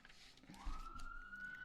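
A New York police car siren sounds from a distance, faint at first, then rises into a long, steady wail that holds over low street noise with no talk.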